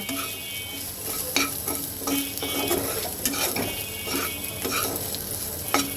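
Onion masala with salt frying in a pan for brinjal dopiaza, a steady close sizzle broken by repeated spatula scrapes and clinks against the metal pan, moderately loud with no talking.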